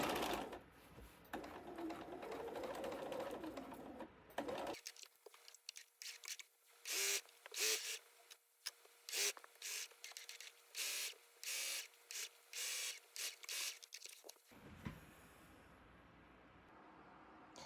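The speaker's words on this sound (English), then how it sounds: "Now that we've sewed around all 4 edges" A sewing machine stitches around the edges of a boxed-bottom knitting bag, running in a long series of short bursts separated by brief pauses, close and clear, with quieter handling noise before and after.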